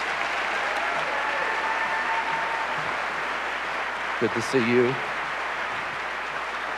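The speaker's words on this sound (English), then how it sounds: "Let's give them a big round of applause." A large audience at a school district leadership conference gives school staff called onstage a steady round of applause, a continuous wash of clapping, while a voice briefly speaks near the mic partway through.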